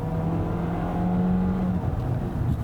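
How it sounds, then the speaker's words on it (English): A 2017 Volkswagen Jetta 1.4T engine drones steadily at high revs, a sustained hum with a rough, strained tone and no talking. "The engine itself at the higher revs doesn't make the most pleasant noises."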